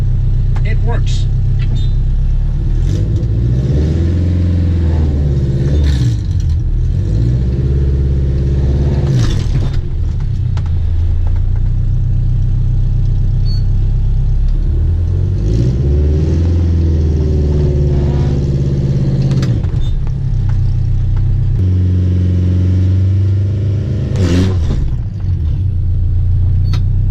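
A car engine hums and rises in revs continuously while the clutch is slipped about halfway, with repeated swells and dips in pitch, close and loud, with a voice speaking over it at times.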